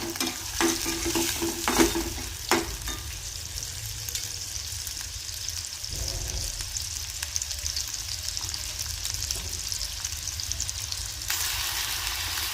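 Capsicum, green peas, onion and tomato sautéing together in a pan for pasta: a close, continuous sizzle with a few stirring knocks early on, steady throughout.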